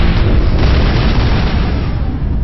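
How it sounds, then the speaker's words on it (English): A loud explosion from a grenade in the sci-fi video game Mass Effect fills the moment with a heavy, rumbling blast that holds at full strength and then slowly thins out, with no talk over it. "Explosion."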